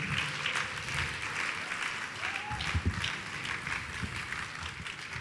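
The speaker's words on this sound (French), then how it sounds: "On peut acclamer le Seigneur ce matin" A church congregation applauds steadily, a sustained wash of clapping hands filling the room at moderate distance, with faint voices and cheers mixed in.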